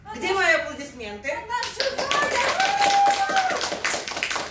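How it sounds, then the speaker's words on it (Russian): Theatre audience applauding at an amateur stage performance, a dense patter of many hands clapping that swells in after a voice and runs steadily under speech. "Ну, где мои аплодисменты?"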